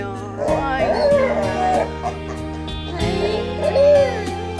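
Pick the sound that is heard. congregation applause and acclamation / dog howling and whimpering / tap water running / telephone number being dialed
dog howling and whimpering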